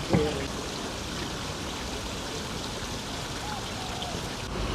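Water splashes and trickles steadily from dragon-head water features at a Hong Kong site such as Chi Lin Nunnery, a continuous close rushing flow with faint voices in the background.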